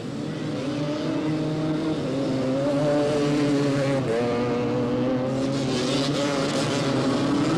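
Yamaha and Honda three-wheelers race at the 1985 AMA National event in Miami, their engines droning loud and steady with rising and falling revs as the pack runs close together, continuous throughout.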